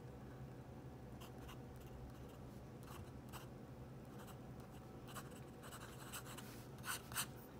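Wet Schmidt medium nib on a fountain pen scratching across paper, a soft continuous scrape with brief brighter strokes toward the end, close and quiet.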